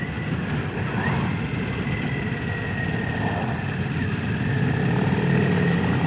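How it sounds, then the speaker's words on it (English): A passing airboat drones with a steady, rumbling propeller and engine roar that stays continuous and fairly prominent, rising slightly toward the end, heard outdoors near Lakeland from a motorcycle ride. "Ooh, airboat."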